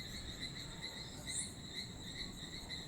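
Frogs singing at night in the Amazon rainforest, a steady dense chorus of high, insect-like trilling that runs unbroken throughout, mid-distance and fairly quiet, with no voices.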